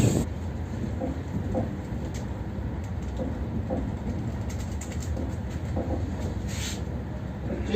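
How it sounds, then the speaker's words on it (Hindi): Dibrugarh–New Delhi Rajdhani Express, hauled by a 4000-horsepower WDP4 diesel passenger locomotive, rumbles steadily from inside the carriage, with a constant low roar and faint intermittent rail clicks, with no voices. "जो लोकोमोटिव पुल कर रहा है वो भी WDP4 है, यानी कि वाइट गैस डीजल से चलने वाला पैसेंजर लोकोमोटिव"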